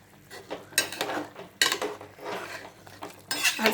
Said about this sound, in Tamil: அதில் போட்டு நம்ம கிளறிடலாம்.